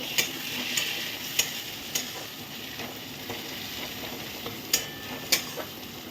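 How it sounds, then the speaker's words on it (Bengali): Tomatoes fry in a pan for a Bengali fish-head muri ghonto, a soft, constant sizzle punctuated by sharp, fairly regular spatula taps and scrapes as they are stirred, with no talking. "টমেটো একটু ভাজা ভাজা করে নেব।"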